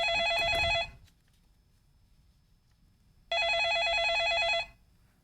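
A telephone rings twice as a television news studio places a call, two loud electronic bursts separated by a silent pause, with no talk over them.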